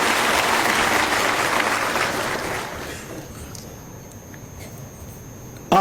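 An audience at a talk breaks into loud applause that gradually fades out over a few seconds, leaving a quiet room with a faint tone.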